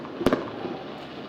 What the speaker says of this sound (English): Is that firework?